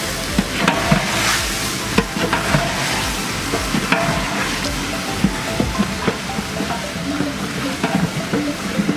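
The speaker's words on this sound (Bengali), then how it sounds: "তো এখন আমরা এই মাংস এখানে দিব সম্পূর্ণ" Meat frying in a hot pan while being stirred, a dense, loud sizzle broken by regular scraping knocks of the spatula against the pan, no talk.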